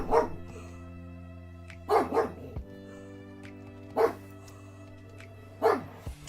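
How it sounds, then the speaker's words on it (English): Dog barking outside, four separate bursts of one or two barks spaced a couple of seconds apart, moderately close and clear over a low steady hum, with no talking. "I think I can hear a dog outside,"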